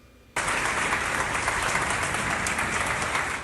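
Dense, steady applause from a crowd welcoming nine firefighters home to Cali, bursting in after a brief quiet start and holding at full strength, close and loud throughout.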